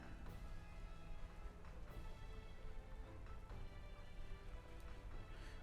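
Steady rain in a Pokémon battle game: a dense, even hiss of falling rain that stays constant throughout, with faint scattered drop-like ticks and no talking.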